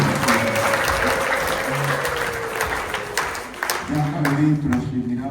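A church congregation claps loudly and continuously in a dense burst of applause, with voices and a few sustained tones rising over it toward the end.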